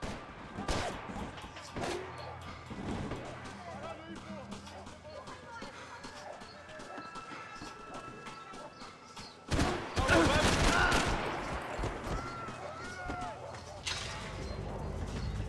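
Bursts of gunfire in a Max Payne 3 shootout, sharp shots scattered through the clip and swelling into a denser volley near the end, heard under shouted voices.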